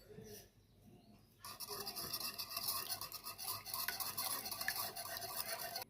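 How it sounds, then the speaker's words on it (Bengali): Egg and salt being whisked briskly in a bowl for a masoor dal cutlet mix, a steady close scraping and clinking that starts after a quiet second and keeps a busy, even rhythm to the end. "আর এখানে আমি একটু নুন দিয়ে ডিমটাকে ভালো করে ফেটিয়ে নেব।"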